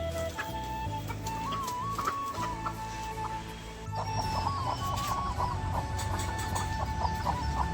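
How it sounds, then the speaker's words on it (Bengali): Chickens cluck busily as they are fed rice, a mix of short clucks and higher calls nearby, growing livelier partway through with steady background noise. "এই মুরগিগুলোকে চালগুলো দিয়ে দিই।"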